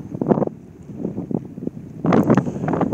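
Cold wind gusts buffet the microphone on a freezing alpine mountain route, rising in rough bursts and lulls and finishing with a stronger sustained blast.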